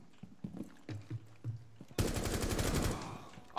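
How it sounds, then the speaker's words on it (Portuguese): Scattered single game gunshots are followed by a sustained burst of rapid automatic rifle fire, loud and close, lasting over a second. "o tiro do automático vai muito mais rápido mesmo"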